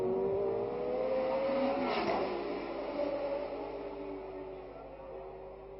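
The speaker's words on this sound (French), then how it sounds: "Quant aux Cooper Maserati, comme celle de Rodriguez que voici" A 1967 Cooper Maserati Formula 1 car at the Monaco Grand Prix screams past, its high engine note rising and falling as it passes close by, then fading slowly into the distance.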